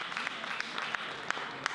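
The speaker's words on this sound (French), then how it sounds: "est-ce qu'on peut encore applaudir?" A brief burst of clapping from an audience at an evening event, a dense patter of many hands heard close, with a faint voice underneath.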